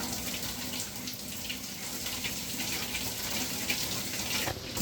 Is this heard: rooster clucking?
no